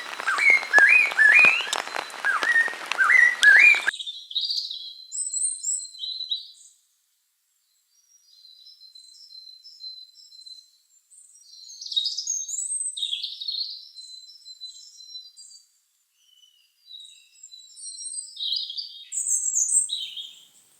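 Himalayan birds in Sikkim chirp and whistle in scattered bursts, fairly close and clear, following a short opening passage of a brighter, dense call, with quiet gaps between phrases.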